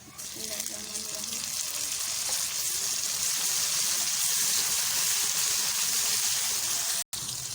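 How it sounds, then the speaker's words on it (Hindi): Tomatoes hit hot ginger-garlic paste in a pan, setting off a loud, continuous sizzle that carries on evenly before cutting out abruptly near the end. "अब टमाटर डाल देते हैं"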